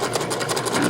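A sewing machine stitches fabric for a long-sleeved bolero, giving a steady, close mechanical whirr with a fast even rhythm throughout.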